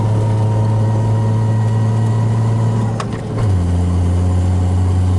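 Turbocharged 1JZ engine in a Nissan 240SX S13 with a 3-inch exhaust, driving on studded snow tires: a steady loud drone that dips briefly around a gear change, then settles back to a lower, even hum.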